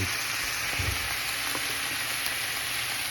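Seasoned meat patties, dusted with garlic powder, black pepper and steak spice, sizzle steadily in a hot pan, a continuous loud crackling hiss with no voices.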